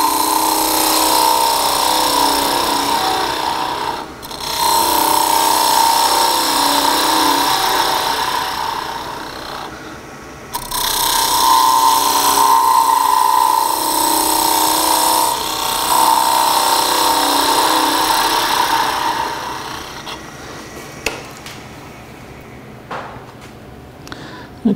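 A wooden snowman spindle spinning on a lathe while a gouge cuts it, a loud sustained whirring hum with cutting noise that pauses twice briefly, then stops, followed by a few small knocks near the end.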